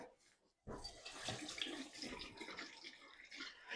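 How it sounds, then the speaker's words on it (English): Hands being washed under a running tap at a sink, a soft steady splash of water starting abruptly after a brief quiet moment, fairly faint. "I'll wash my hands a bit."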